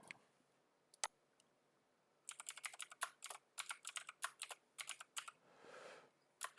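Rapid bursts of clicking keys on a computer keyboard, close and crisp, in uneven runs separated by short pauses, with a soft rustle near the end and no talking.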